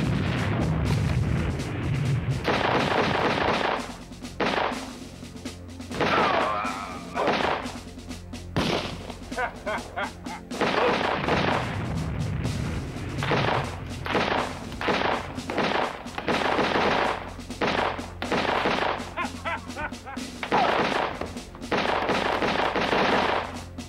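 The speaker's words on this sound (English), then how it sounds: "Use that gun!" Rapid volleys of gunfire from The Last Bounty Hunter, an American Laser Games laserdisc shooter, crack loudly and repeatedly in dense bursts with thuds and booms, separated by brief lulls.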